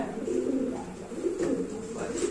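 Low pigeon cooing rumbles steadily up close, with faint voices in the background.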